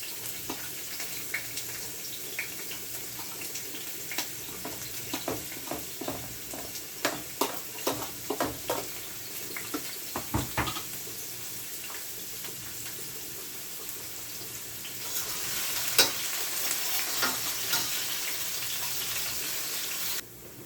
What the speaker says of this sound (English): I'm gonna put my carrot because I want my carrot to cook a little.